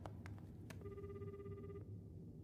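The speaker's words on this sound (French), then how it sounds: "je viens de recevoir une notification du système" A phone system notification plays in an anime scene: a few quick clicks followed by a sustained electronic tone lasting about a second, faint over a low background hum.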